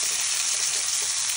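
Ribeye steak searing over high heat in a hot pan, a loud, steady, dense sizzle of frying that runs unbroken throughout with no voices.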